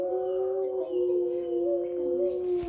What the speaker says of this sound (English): Both of them now are howling because they can hear an ambulance.